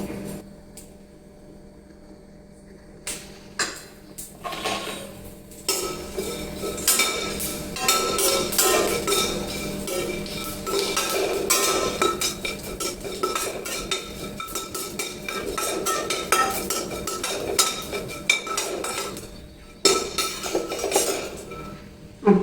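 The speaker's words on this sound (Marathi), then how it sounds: "आणि जावित्री व्यवस्थित भाजून घ्यायचे" Mace (javitri) is dry-roasted in a pan while being stirred, with repeated metallic scraping and clinking of a spoon against the pan, irregular and close, with a few quiet pauses.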